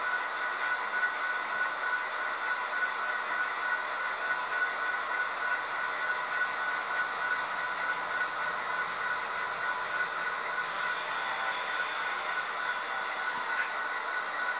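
A steady mechanical rumble with high metallic whine of a model train running continuously on track, with no voices.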